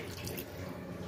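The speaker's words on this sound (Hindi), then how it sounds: "ये गया पानी इसमें" Water is poured into a pan of chicken curry cooking with masala and methi leaves, giving a steady, soft splashing pour heard alone and fairly faint.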